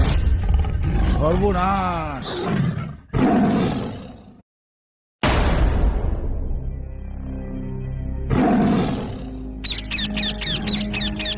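Tiger roars in a Sundarbans jungle cartoon, several loud, long roars mixed with music and a shouted exclamation, with a brief silent gap partway through.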